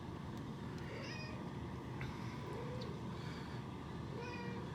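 Cats meowing indoors near an HVAC system, several short faint meows repeating at intervals over a steady low mechanical hum.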